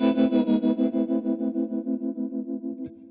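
A sustained guitar chord played through a Boss Katana amp pulses with a fast, even tremolo throb, the level rising and falling rhythmically as the note slowly decays, with no voices.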